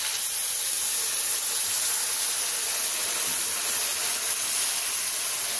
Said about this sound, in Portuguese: Vou colocar a cerveja preta.